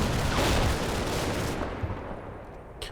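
Artillery spotting rounds landing in the WWII Normandy wargame Combat Mission, a loud rolling burst of blasts and rumble that fades out, followed by a sharp distant report.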